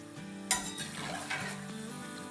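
Potato pakoras fry in oil in a kadhai, a continuous close sizzle with one sharp metallic clank near the start and a softer knock later, no talking.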